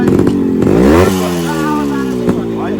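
Motorcycle engine revving up and then settling into a steady rising-and-falling drone, loud and close, with people talking over it.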